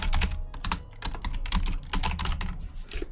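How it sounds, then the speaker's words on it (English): Quick, uneven clicking of keys on a computer keyboard, with bursts of close, crisp keystrokes and short pauses between words. "Okay, so yep, I'm typing it up again."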